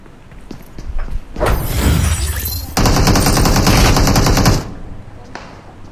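Rapid automatic gunfire in a 1-vs-4 squad shooter match, loud, dense sustained bursts crackling for about three seconds mid-clip, then dropping away to quiet background.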